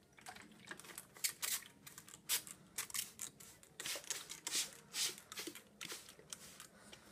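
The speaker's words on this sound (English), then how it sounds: "I'll just use this, and I'll spray it down every day for her so she can have drinking water." A handheld spray mister spritzes water onto paper towel in a carpet python enclosure, a run of short, close, hissing puffs in irregular rhythm with brief pauses between squirts.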